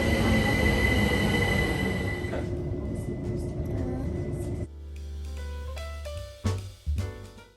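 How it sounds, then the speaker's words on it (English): A London train runs on rails with a loud, steady rolling rumble that drops to a lower hum, then brief metallic screeches and squeals near the end as it passes close by. "This is an oncoming train"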